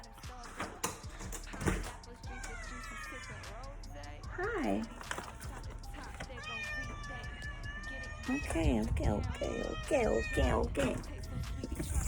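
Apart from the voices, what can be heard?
baby cat meowing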